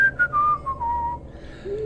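A character in the video game LOTRO gives a guilty little whistle: one close, clear whistled phrase gliding downward in pitch, ending with a short higher note after a brief pause.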